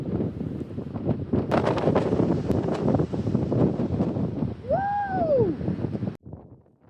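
Strong wind on a hike near the Sweden-Norway border buffets the microphone in a heavy, rumbling roar, with a brief rising-and-falling whistle-like tone near the end before it suddenly drops off.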